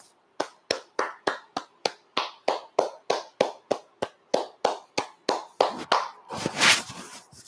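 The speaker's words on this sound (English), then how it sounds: "Let's clap it up." A small group claps along during a church sermon, about twenty sharp, evenly spaced claps in a steady rhythm that swell into a short burst of louder mixed clapping at the end.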